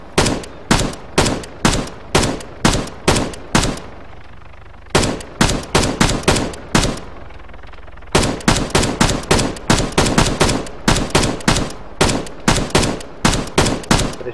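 Automatic gunfire in the video game Arma 3, played in Exile mode, with loud rapid bursts of shots in quick rhythmic volleys, a short pause, then longer sustained strings of fire.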